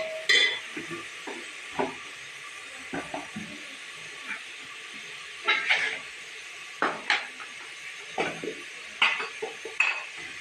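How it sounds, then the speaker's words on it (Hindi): Desi ghee goes into a pot of chicken yakhni soup as it cooks, heard as a faint sizzle under scattered spoon scrapes and metallic clinks against the pot, spaced irregularly and fairly quiet. "थोड़ा सा घी, देसी घी डालूंगी,"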